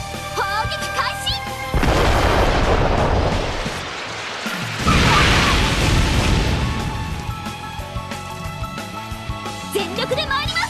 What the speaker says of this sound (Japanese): 主砲砲撃開始。